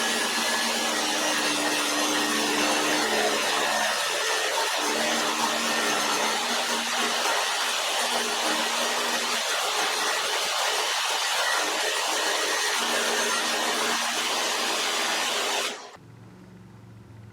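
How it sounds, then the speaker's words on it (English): Abrasive blade on a table saw cutting a steel bearing, a loud sustained grinding roar with gritty scraping texture, continuous and close, then abruptly dropping to a quieter spin-down hum near the end. "the bearing is getting warm due to being cut by an abrasive blade"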